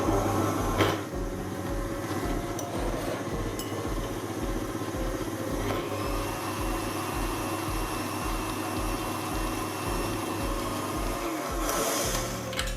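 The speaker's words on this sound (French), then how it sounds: "je vais fouetter l'ensemble à petite vitesse de façon à détendre le mascarpone" An electric mixer whisks mascarpone and liquid cream into a chantilly at low speed, a continuous even motor whir with a rhythmic low pulsing that runs unbroken and fairly close.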